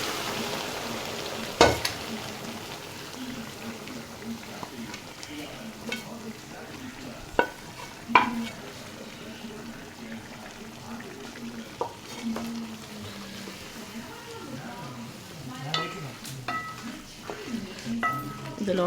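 Pre-cooked pressure-cooker chicken stirred into a pan of well-sautéed onions for a roasted-coconut chicken curry, with steady frying sizzle, scattered sharp clinks of a spoon against the pan, and faint talk in the background.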